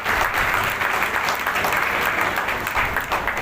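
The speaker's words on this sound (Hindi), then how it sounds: "अपने पिता की जोरदार तालियों से उनका स्वागत करें।" A seated audience at a Chhattisgarh Chamber of Commerce convention applauds steadily, with a full, dense wash of clapping throughout.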